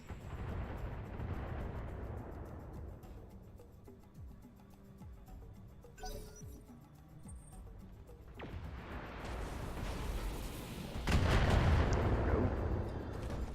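Missile salvos and explosions in the BattleTech mech combat game: a jumble of launches, impacts and gunfire-like bursts, with a sharp hit near the middle and a heavy, loud blast late in the sequence.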